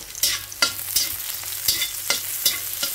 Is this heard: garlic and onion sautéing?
yes